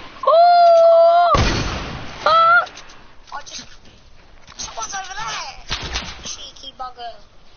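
Gunfire in Fortnite: a loud burst of shots cuts through mid-clip, with a later short blast and scattered lighter pops, surrounded by honking, bird-like game sounds and voices talking.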